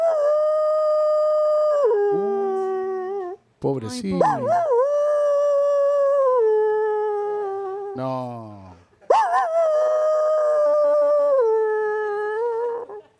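A person imitating a lonely dog's howl, giving long wavering mournful howls in several drawn-out phrases with short whimpering breaks, loud and close, with a few brief spoken words in between.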